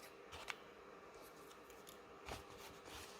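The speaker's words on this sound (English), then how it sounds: "I'm just going to cut a little bit beside them" Scissors snipping paper to trim the edges of a scrap tag, a few faint close crisp cuts spaced apart in a quiet crafting setting.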